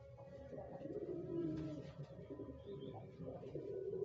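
Domestic pigeons kept at home coo softly and steadily in a low, murmuring chorus throughout, with a faint higher chirp partway through and no talk.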